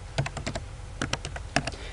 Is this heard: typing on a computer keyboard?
yes